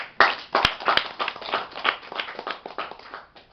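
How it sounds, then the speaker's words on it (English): A small audience at a Table Topics speaking session claps by hand, a few distinct sharp claps at first, then a thinner patter of individual claps that fades out. "So I want to applaud for this."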